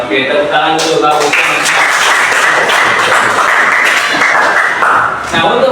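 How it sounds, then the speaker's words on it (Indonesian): Classroom of students clapping hands together in a lesson, a dense burst of applause mixed with children's voices and chatter, lasting several seconds before fading. "tepuk tangan dulu bagus."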